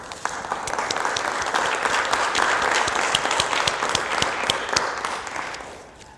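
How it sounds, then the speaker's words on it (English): A conference audience applauds a guest professor at an annual conference, a dense, steady round of clapping that holds for several seconds before thinning out at the end. "We're not used to clapping anymore."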